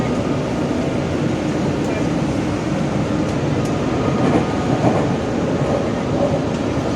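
Steady, loud rumble inside an evening train travelling from Kyoto to Nagoya, Japan, a constant broadband roar with faint rattles and no break.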